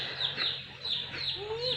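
Chickens cluck in a short run of repeated calls, with a higher bird note near the end, over steady background noise.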